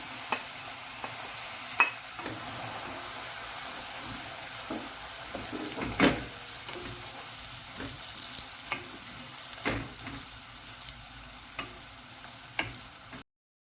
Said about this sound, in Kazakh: Қысып тұрған майымызға ең алдымен мен ас қабақты салып қуырып аламын.